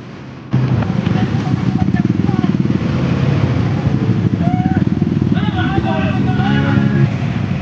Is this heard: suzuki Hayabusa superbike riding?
yes